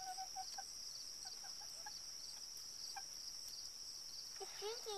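Chickens making short clucks and chirps close by while drinking from a homemade waterer, with steady insect-like background hum and brief faint talk.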